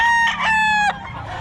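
A rooster at a gamefowl market in Bocaue gives one loud, close crow, a bright drawn-out call that fades into low background noise.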